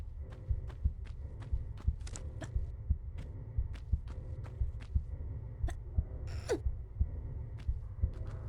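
Steady, regular thumping heartbeat in a Tomb Raider game pulses at an even rhythm over a low hum, with a brief brighter metallic rattle near the end.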